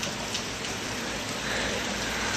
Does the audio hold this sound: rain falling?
yes